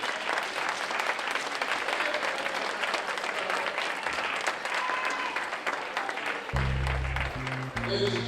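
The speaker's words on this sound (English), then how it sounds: "I would like for us to give Dr. Sebi a round of applause" An audience applauds after a lecture, sustained clapping from a crowd, with a voice briefly speaking near the end.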